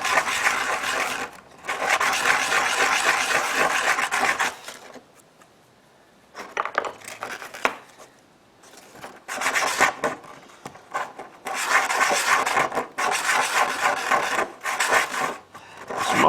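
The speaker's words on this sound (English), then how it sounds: "We come back with sandpaper." Sandpaper rubs by hand across pieces of a wooden toy train in long, raspy back-and-forth strokes, close and steady, in several bursts separated by short quiet pauses.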